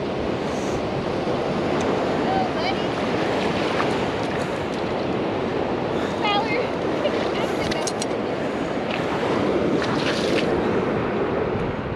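Ocean surf at a Hilton Head Island beach during family surf fishing, a steady loud roar of breaking waves mixed with wind buffeting the microphone, with faint voices underneath.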